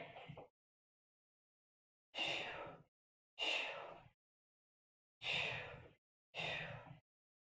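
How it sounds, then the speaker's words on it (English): Forceful exaggerated breaths during a cardio countdown workout, four loud bursts each about half a second long at a steady pace after a short opening breath, close and clear with silence between. "I'm accentuating my breathing so you can hear it."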